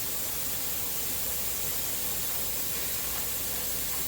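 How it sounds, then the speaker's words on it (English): A pressure canner venting steam while canning Zuppa Toscana soup: a loud, steady, continuous hiss that holds unchanged throughout, with no other sounds. "This is what the canner sounds like after 10 minutes of venting."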